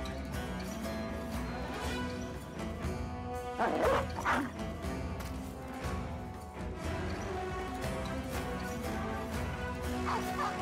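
A dog in the video game Battle Brothers barks repeatedly and whimpers amid battle noise, the sharp barks loud and close, with clashing impacts around them and no clear talking.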